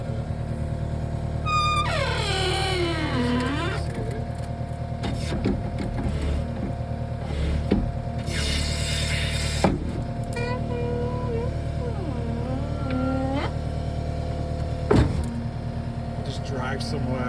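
A Cat 279D3 compact track loader runs with a steady low diesel drone at low revs, broken by whining hydraulic and drive sweeps and occasional clunks, while someone talks nearby.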